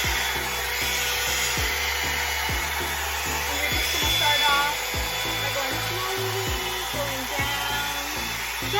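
A Marble beauty tools blow dryer brush runs with a constant airy whir throughout, moderately quiet and close, with faint handling rubs and scrapes over the steady hum and no clear speech.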